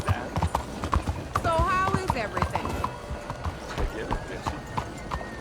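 Horse hooves clip-clop in Red Dead Redemption 2, a steady run of close, crisp strikes under someone talking, with a whinny-like tonal call partway through.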